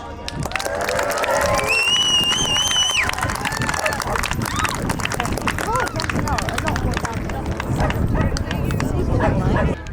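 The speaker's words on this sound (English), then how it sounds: "One big loud round of applause." A loud, dense airshow crowd roars and cheers continuously, with whistles and shouting blending into a sustained wall of applause throughout.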